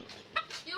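A bantam chicken gives a brief cluck or two, fairly faint and close, over a quiet background with a trace of nearby voices.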